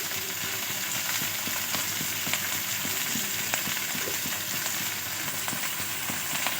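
Chopped capsicum, tomato and chilli fry steadily in a pan, a dense continuous sizzle with frequent small scraping clicks as they are stirred, close and fairly loud with no talking.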